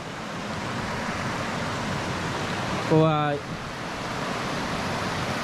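A natural waterfall in Utah pours in a steady, dense rushing hiss that holds evenly throughout, while someone briefly speaks a word over it midway.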